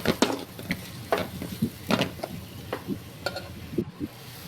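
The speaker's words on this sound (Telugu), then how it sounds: "ఇవన్నీ వేసుకున్న తర్వాత కలుపుకొని పక్కన వేగలుగుతాం" Capsicum and lentils are stir-fried in a pan, with a low sizzle underneath and a spatula scraping and tapping in an irregular rhythm, close and moderately loud.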